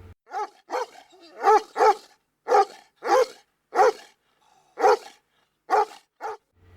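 A dog barks frantically in a rapid series of about ten sharp, close barks with brief gaps between them, loud and alone.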